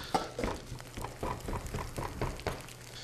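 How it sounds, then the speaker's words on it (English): A knife dices a red onion on a cutting board in a steady run of quick, fairly close chopping taps, with no talking. "I'm going to dice a little bit of a red onion"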